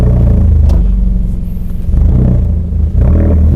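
A Mazda 3 hatchback with a catback exhaust revs up loud and close, a deep bassy rumble that climbs, drops back and rises again, with no talking over it.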